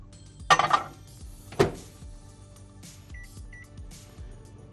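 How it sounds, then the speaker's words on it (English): A kitchen microwave oven is loaded with a bowl of apple, onion and cinnamon in water: two sharp clunks of the bowl and door, then a quiet running hum with two faint beeps from the keypad. "I'm going to go ahead and put this in the microwave for about 5 minutes."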